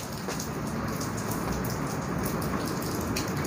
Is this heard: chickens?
no